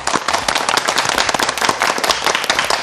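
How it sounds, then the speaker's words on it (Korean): A television studio audience claps to welcome a guest folk-painting artist: a thick, continuous patter of many hands with sharp, crackling claps, loud and close, with no voices. "민화 작가 서고임 선생을 박수로 맞이하겠습니다"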